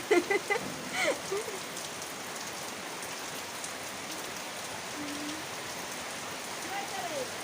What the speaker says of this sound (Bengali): ওই বৃষ্টি ভিডিও দেখতে পাচ্ছেন আপনারা?